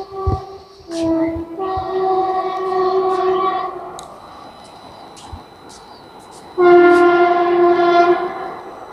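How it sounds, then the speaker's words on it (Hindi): A train passes near a railway station in a hilly area, sounding a loud multi-tone horn in two long blasts, the second louder, over the rumble of the moving cars. "तो ऐसे ही यहाँ पे ट्रेन गुजरते रहते हैं हमेशा, हर 5-10 मिनट में, और काफ़ी मीठी मीठी सी साउंड आती है ट्रेन गुजरती है"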